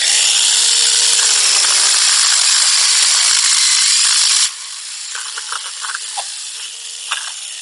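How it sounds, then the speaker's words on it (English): A KOHAM mini 4-inch battery chainsaw cuts through a piece of dry firewood, making a loud, continuous high whine with chain rattle that stops abruptly partway through, leaving only light handling clatter. "show you how well it can cut through these different size pieces of wood"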